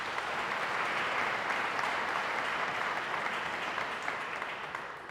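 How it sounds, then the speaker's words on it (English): An audience at a police constable badge ceremony applauds steadily, a dense, even patter of many hands that holds for several seconds and tapers slightly at the end, with no talk over it. "We can give them a round of applause in their absence."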